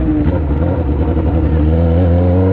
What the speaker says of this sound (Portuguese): Agora nós acelera na curva, encosta o joelho